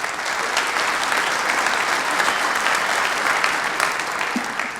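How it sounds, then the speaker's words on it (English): Audience applause for a conference presenter at JNUC 2014, a steady, dense wash of clapping from a large crowd that holds evenly through the whole stretch without pause. "so I'll give him a big round of applause"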